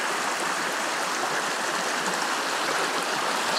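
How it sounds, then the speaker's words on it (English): The Sapio River flows along a mountain trail, a steady, even rush of clean water with fine splashing texture, continuous and moderately loud with no voices. "Sapio River flowing nicely."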